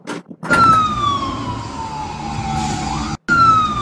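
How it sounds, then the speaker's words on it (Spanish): Ambulance siren on a street in Cúcuta, loud and close, a wailing tone that sweeps slowly downward over a few seconds, briefly cutting out near the end before starting again, with traffic rumble beneath. "nosotros mostramos las locuras de las ambulancias. Usted va por la calle de Cúcuta y se encuentra esto"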